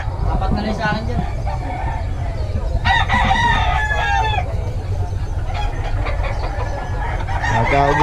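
Chickens and roosters at a poultry market, with several cock-a-doodle-doo crows rising over a steady crowd murmur and scattered clucks, the crowing rather near and repeated in bursts, with people talking throughout.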